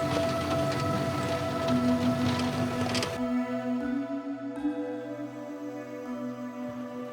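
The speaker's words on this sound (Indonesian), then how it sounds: "saat tiba di pelabuhan hujan begitu deras mengguyur" Heavy rain pours down at Labuan Bajo harbour, a steady, close hiss that fills the air, then turns softer and more muffled partway through, with a low hum underneath.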